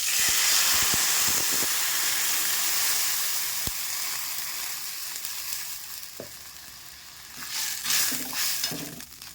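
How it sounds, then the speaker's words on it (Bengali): A pot of watery curry broth with potatoes and slit green chilies boils vigorously, giving off a loud, steady bubbling hiss. A few sharp clicks sound early on, and a burst of busier bubbling rises near the end. "ঝোল টকবক করে ফুটে গেছে।"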